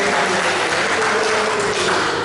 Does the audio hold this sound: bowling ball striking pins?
no